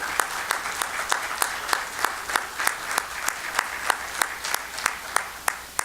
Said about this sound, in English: will our nominees please stand and clap for your support system who is here tonight?